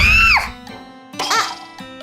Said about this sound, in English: before we could tell her that it was a nice scream